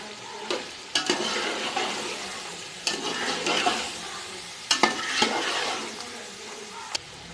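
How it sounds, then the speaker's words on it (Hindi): Green chickpeas sizzling and frying in a pan for pulao, with repeated stirring scrapes and clanks over a steady crackle. "अब सब्ज़ चने डालेंगे। इनको 2 मिनट तक भूनेंगे।"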